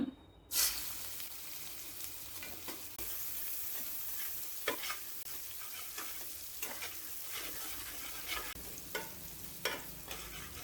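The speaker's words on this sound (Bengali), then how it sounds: "পেঁয়াজ ভাজা হলে আমি ফিরে আসব।" Onions frying in a pan for a mung dal and ash gourd curry, a continuous crackling sizzle with periodic scrape-and-stir strokes of a spatula, close and steady with no voices.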